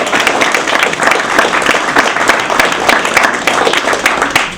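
Loud, dense audience applause for Kevin Fitzpatrick at a Marx Brothers event at The Lambs, a continuous crowd of clapping hands with a few sharper individual claps standing out, steady throughout.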